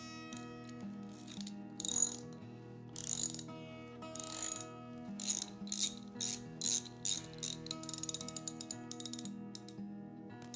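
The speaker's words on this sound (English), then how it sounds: "Oh, I brought my juicing spanner." A juicing spanner squeezes a grapefruit for cocktail juice, producing a string of close, crisp ratcheting clicks in short bursts that come faster and tighter toward the end, with no talk.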